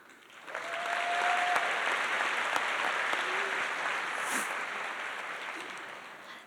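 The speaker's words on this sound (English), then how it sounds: "Let's have another round of applause for the video." A room full of people at an architecture school convocation claps steadily for several seconds, the applause swelling quickly then slowly tapering off.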